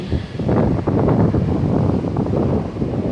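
Heavy, blustery wind roaring across the microphone, a constant loud rumble buffeting throughout.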